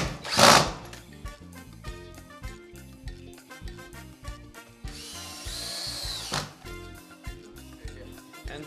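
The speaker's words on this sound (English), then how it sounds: "so I'm gonna put the extra screws." A power drill drives screws into wooden archway framing, with a loud burst near the start and a long steady whir later, close and without talk.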